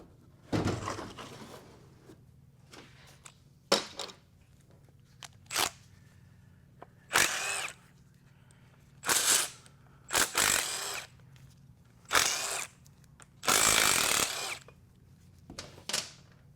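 A power tool spins bolts loose to remove the tail housing of a TH400 automatic transmission on a workbench. It runs in several short, close bursts separated by quiet gaps, with an occasional knock of parts.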